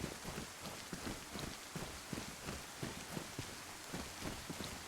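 Steady rain falls in the DayZ video game as a constant hiss, with soft, regular thudding footsteps underneath, quiet and without talk.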